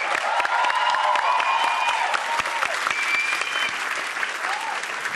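A studio audience at a television talk show applauds warmly, a dense, sustained clapping that holds steady for several seconds with faint voices beneath it.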